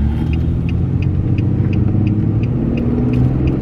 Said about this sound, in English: I'm driving for a second.